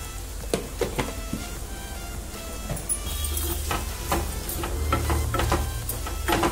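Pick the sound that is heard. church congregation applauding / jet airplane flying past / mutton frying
mutton frying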